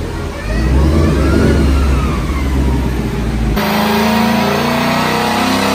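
A stock 2019 Mustang GT V8 revs hard on a dyno, a loud sustained engine roar that shifts in pitch partway through, with brief talk mixed in.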